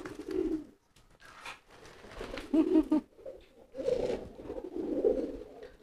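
Pigeons cooing in courtship, racing pigeons of the giring type, a deep repeated throaty coo in several bursts close by, with no talk.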